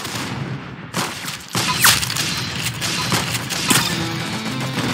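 Minigun fire in the Roblox game Arsenal comes as dense, rapid bursts of loud gunfire with impacts and crashes, a continuous clattering barrage over several seconds.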